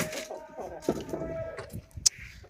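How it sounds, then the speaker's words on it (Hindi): Hens in a small coop room give soft, close clucks and short throaty calls, with a sharper squawk near the end over a quiet background. "तो ये हमारी मुर्गियाँ अभी भी सोच रही हैं कि बाहर निकलें या ना निकलें।"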